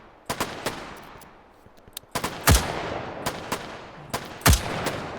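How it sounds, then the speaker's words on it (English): Gunshots at a virtual shooting range in H3VR, sharp close single reports spaced irregularly, a few heavier booming shots among them, each ringing out with a short decay and no talk. "Let's shoot a couple targets."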